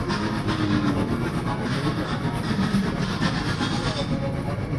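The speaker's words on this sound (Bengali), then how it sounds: "আপনারা দেখেন ট্রেন এসে গেছে।" A Kolkata metro train pulls into a station on the line running under the river toward Howrah, with a steady low rumble and faint rhythmic clatter under a background murmur.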